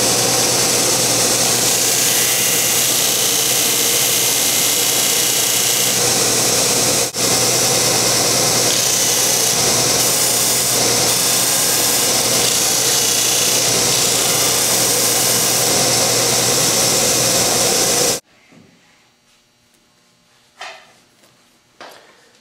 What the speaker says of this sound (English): The next thing I'm going to do is take it over to the disc sander